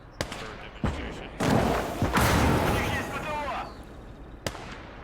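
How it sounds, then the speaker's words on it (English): A tank explodes in the Call to Arms Ost Front war game: sharp blasts, then a loud sustained burst of fiery rumble and crackle lasting about two seconds, with scattered gunfire and a final sharp report. "Let's see if we can get a good tank blow up here"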